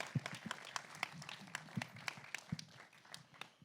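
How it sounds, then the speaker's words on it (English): An audience applauds guests at a film celebration Q&A, a thin, scattered round of clapping with a few sharper individual claps standing out, fairly quiet and steady without talk. "Can we please give them a round of applause?"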